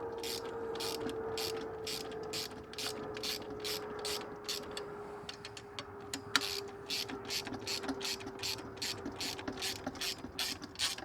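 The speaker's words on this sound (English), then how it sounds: "tighten those down. Again, I'm using an 11mm and also this crescent wrench here" A wrench ratchets in steady rapid clicks while tightening bolts on an Earthway 2600A Plus spreader during assembly, a close, continuous mechanical clicking over a low hum.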